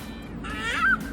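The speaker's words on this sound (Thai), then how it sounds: "นี่นะคะมีเป็ดน่ารักไปดูเป็ดกัน" Ducks at a zoo honking and quacking, a short rising call that swells and peaks near the end, heard fairly close over a steady background hum.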